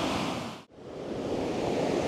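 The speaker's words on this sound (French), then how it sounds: "les vagues, regardez" Ocean waves break and wash on a beach at Koh Samui, a loud broadband surf roar that drops out briefly near the start, then swells back and rolls on steadily.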